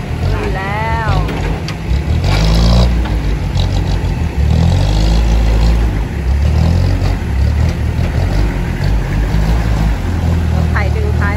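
Farm tractor engine in a cassava field, hauling a cassava truck stuck in rain-soaked ground, runs as a loud, steady low rumble throughout, with voices talking over it.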